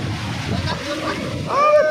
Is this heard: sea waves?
yes